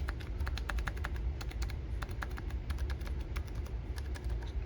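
Brisk typing on a repaired, re-lubricated Apple II Plus keyboard, a quick uneven run of close clacking keystrokes over a low background hum, with no one speaking.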